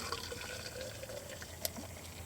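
Boiled water poured from a Trangia camping pot into a measuring container, a quiet steady trickling splash with a small clink near the end, no talking.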